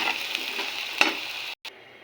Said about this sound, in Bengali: ফুলকপিটা ভাজার জন্য কড়াইতে সামান্য তেল দিয়ে দিলাম। ভেজে নেব